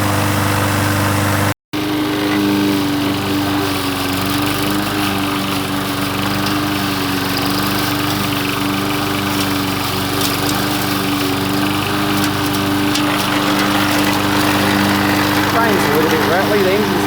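A Victa four-stroke lawn mower engine runs steadily and loudly close by with a constant droning hum, a brief cutout near the start, and someone talking over it.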